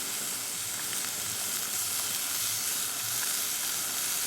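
Potatoes fry in a pan, giving a steady, close, bright crackling sizzle with faint popping throughout and no talk over it.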